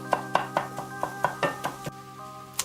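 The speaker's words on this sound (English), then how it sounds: "we're just gonna break this up, keep breaking it up. Break it down. We want nice, fine sausage crumbles here." Sausage is broken into fine crumbles in a pan. About a dozen evenly spaced scraping taps of a utensil against the pan ring out over a steady sizzling hum, with no speech.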